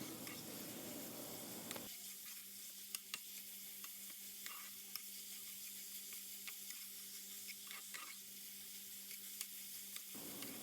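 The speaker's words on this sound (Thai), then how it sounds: "ใส่น้ำมันให้ร้อนนะคะ เราก็เอาส่วนผสมที่เรา หมักไว้เมื่อกี้มาผัด ให้สุก" Marinated red pork filling sizzles steadily in hot oil while a utensil stirs and scrapes the pan, with occasional sharp clicks over the constant frying hiss.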